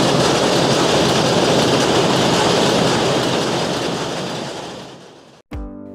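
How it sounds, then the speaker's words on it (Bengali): Loud, steady drone of a river launch's engine on a Dhaka–Barisal passenger ferry, heard close from the deck, filling the clip without a break before cutting off abruptly near the end. "লঞ্চের ইঞ্জিনের বিকট শব্দ"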